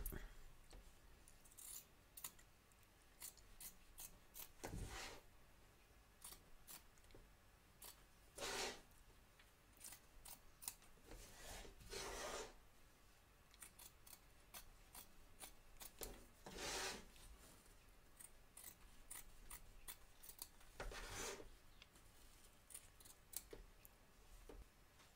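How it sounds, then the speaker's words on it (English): Scissors trim excess fabric from the front and back of a machine-embroidery hoop holding a surfing Santa design. Faint, irregular snips and soft scraping come close up, scattered through a quiet stretch. "Trim away the excess fabric from both back and front of your hoop"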